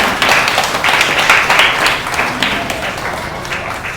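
A crowd at a Sant Ravidas Jayanti ceremony gives steady, moderately loud applause with dense overlapping claps, lasting the whole stretch without a pause.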